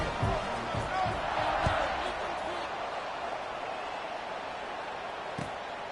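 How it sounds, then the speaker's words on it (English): Stadium crowd in an NCAA college football video game keeps up a steady broad roar after a touchdown, with a few sharp thumps near the start and a commentator's voice talking over it. "this crowd is buzzing after that last score"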